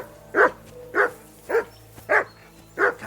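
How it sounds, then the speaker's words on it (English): A dog barking in the medieval role-playing game Kingdom Come: Deliverance II, five evenly spaced, medium-loud barks over a low, quiet background. "That dog of yours is barking like the devil."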